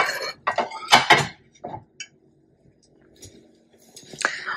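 Plates and cutlery clink and clatter as food is served at home, a burst of busy knocks early on, then scattered faint taps after a pause, with more clatter at the end.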